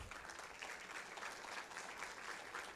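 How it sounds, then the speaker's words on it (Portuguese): A church congregation claps steadily and loudly through the whole stretch, a dense wash of applause with no voices standing out. "Dá um glória a Deus ao Senhor, aplauda ao Senhor."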